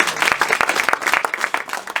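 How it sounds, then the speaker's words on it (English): An audience at a sponsorship announcement applauds steadily, with dense overlapping clapping from a crowd throughout. "A big round of applause, please."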